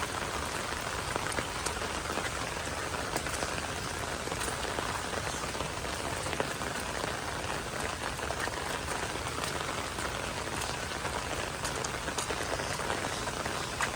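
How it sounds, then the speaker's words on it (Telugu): Heavy rain pours steadily on a village in a tribal area, a dense, constant hiss of drops on surfaces that stays loud and unbroken throughout, with no voices. "వర్షం కూడా ఘోరంగా పడుతుంది ఇంకా."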